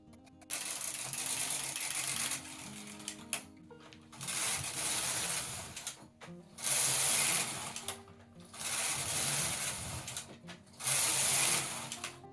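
A knitting machine carriage sweeps back and forth across rows of waste yarn, giving five loud swishing, ratcheting passes separated by short pauses, close by with no talking.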